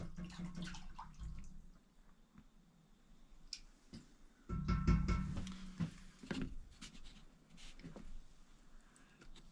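Running water splashes in uneven bursts onto a wet-formed leather knife sheath, with a louder gush midway and soft drips and handling noises between pours.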